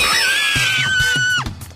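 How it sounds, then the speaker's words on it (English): A long, loud, high sustained scream from a character in an anime fight series holds steady for over a second, then drops off abruptly, with thumping impacts underneath. "What are you screaming about?"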